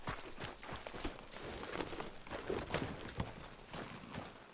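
Horse hooves clip-clop at a steady walking rhythm in Red Dead Redemption, fairly quiet and continuous with faint ambient outdoor game sounds around them.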